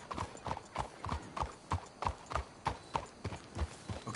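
Horse hooves clip-clop in a steady, even rhythm, fairly close and clear, with no talking, in the video game Red Dead Redemption 2.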